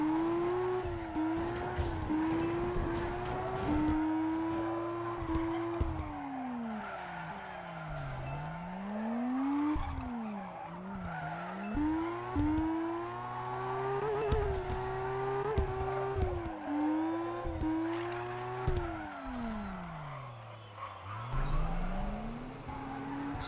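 A car drifts in the racing video game OverDrift, its engine revving and falling in long swooping sweeps over continuous tire squeal, loud and close throughout with no talk.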